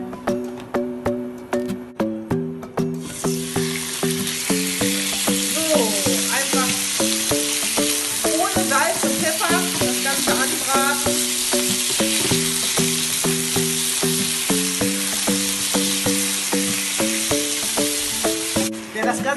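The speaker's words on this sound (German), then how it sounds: "Kann man das auch gleich in einer Wokpfanne am besten erhitzen." Chicken breast pieces sizzle loudly in a hot wok, a steady frying hiss with occasional scraping clatter, over background music.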